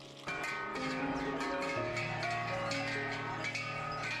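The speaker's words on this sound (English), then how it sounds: "Every cow in Appenzell has its own bell with a unique tone." Bells hanging on Appenzell Alpine cows clang and chime in an irregular, overlapping jangle, each with its own tone, ringing fairly faint and steady at a moderate distance.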